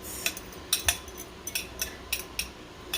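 Two large eggs being whisked in a pot for a veggie omelette, heard as a steady run of light, sharp utensil clicks against the pot, close and moderately loud, with no talking.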